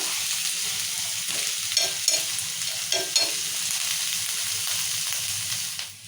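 Sliced ulliada chillies fry in hot oil with a steady, continuous sizzle, broken by a few brief louder crackles and stirring clatters near the pan.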